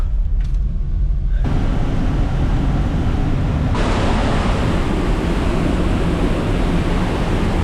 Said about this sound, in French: La cascade elle est pas si énorme que ça en fait. Ouais, C'est surtout que ça résonne de ouf.